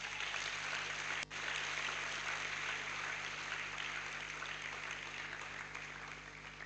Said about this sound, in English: I think we deserve some round of applause for ourselves